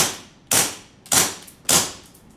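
An AW Custom M1911 airsoft pistol fires three sharp, close cracks about half a second apart, each snapping loudly and decaying quickly, until the empty magazine leaves the slide locked open.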